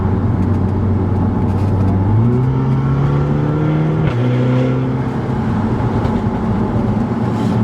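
An Audi S3 tuned to APR Stage 3 with an EFR turbo accelerates hard through the gears, a loud, close engine drone rising in pitch with two clear upshifts.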